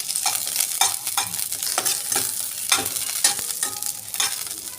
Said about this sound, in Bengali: একটা লঙ্কা দিয়ে দিলাম। একটা পেঁয়াজ দিয়ে দিলাম। কখন রসুন দিয়ে দিলাম। দিয়ে এটা আমি একটু নাড়িয়ে নেব।